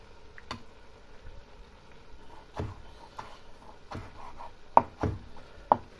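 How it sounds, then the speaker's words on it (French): Knife chopping wild mushrooms on a board, a handful of sharp, irregular taps at close range, some louder than others, over a quiet kitchen background. "Maintenant je vais découper mes champignons."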